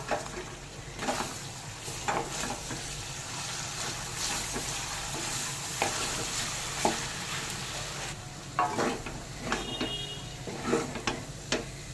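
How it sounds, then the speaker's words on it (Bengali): Veg chowmein with Maggi masala and chili sauce stirred and tossed in a pan over a continuous sizzle, with irregular spatula scrapes and clinks against the pan, some quiet stretches and busier bursts later. "এবার ভালোভাবে নেড়ে সব মিশিয়ে নেব"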